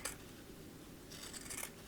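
Fabric scissors snip through the delicate embroidered fabric of a three-layer face mask, giving a short crisp cut at the start and another cluster of snips near the end, close and fairly quiet.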